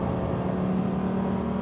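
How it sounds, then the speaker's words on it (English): Lamborghini Huracán STO pulling hard out of a corner on a race track, a steady dense engine drone with a strong low hum, close and loud throughout with no talk. "eyes up, connect the greens, and accelerate."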